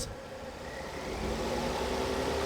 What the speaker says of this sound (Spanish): Aceléralo a 2000 RPM